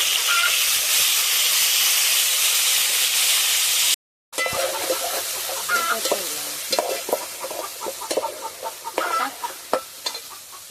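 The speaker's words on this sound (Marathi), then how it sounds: "पहिला हिंग टाकला तेलामध्ये आता हे लसूण टाकले आता टॅमॅटो टाकले" Garlic and tomatoes drop into hot oil with asafoetida in a pan on a wood-fired stove. A loud, steady hiss breaks off briefly, then returns as a crackling sizzle with sharp pops that gradually thin out.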